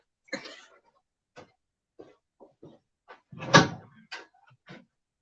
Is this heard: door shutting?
yes